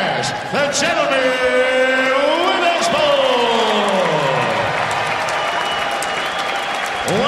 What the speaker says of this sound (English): Once again, a huge round of applause for Adam the Slump Ducky.